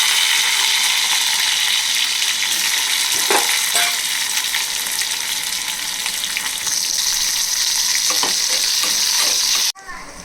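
Small onions frying in hot oil for sambar, a steady broadband sizzle that runs loud and continuous for about ten seconds, with a few faint stirring clinks partway through and a sudden drop near the end.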